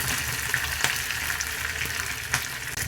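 Mustard seeds, urad dal and curry leaves frying in hot oil for a tempering, giving a steady close crackling sizzle with a few sharper pops and stirring noises, no talking.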